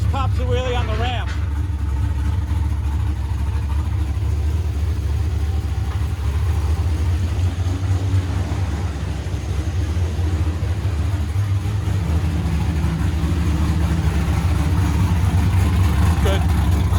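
A 1996 Chevrolet Impala SS race car with an LT1 engine runs steadily through its exhaust pipes, a loud, deep, continuous rumble that holds for the whole stretch while people talk nearby.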